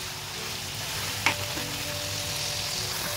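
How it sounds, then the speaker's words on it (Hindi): Mutton keema fries in a pan with a steady close sizzle, a brief clink of a utensil stirring partway through, with no talk. "तो पहले हम कीमा फ्राई करके निकाल लेंगे साइड में अलग से"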